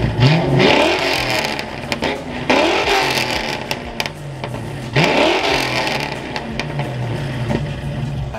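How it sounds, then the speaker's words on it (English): Ford Mustang Foxbody engine revving hard in repeated bursts, each climbing then falling off throttle, loud and close with a steady idle rumble between rises; no talk. "basically anytime I rev it, when I get off throttle, the thing kind of poofs out a little bit of black smoke"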